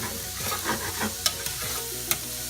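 Onions sautéing in a pan for a Southern meatball stew, a close, lively sizzle with a spatula scraping and stirring through it and a few sharp clicks of utensil on pan, with no talking.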